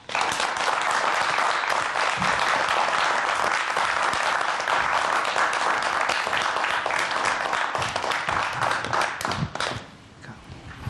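An audience at a talk on the science of taste applauds to welcome the speaker, a loud, dense wall of clapping that carries on steadily for several seconds and then thins out near the end.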